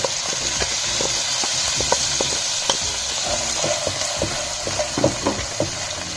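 Mixed vegetables for egg fried rice sauté in a hot pan with a steady, close sizzle, punctuated by frequent scraping and stirring knocks of a utensil against the pan.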